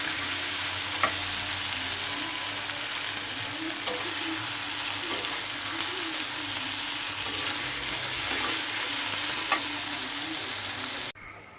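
Shrimp frying in a pan on a home stove, a steady broadband sizzle running throughout with a few sharp pops and clinks of a utensil, close and fairly loud, ending abruptly.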